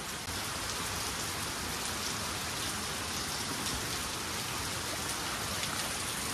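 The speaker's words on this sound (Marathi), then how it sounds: "दोन दिवस कोकणामध्ये सतत पावसाची बॅटिंग चालू आहे" Dense, steady monsoon downpour of heavy rain in the Konkan region pounding surfaces, a constant loud hiss with no breaks and no voices.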